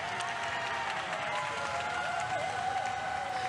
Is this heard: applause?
yes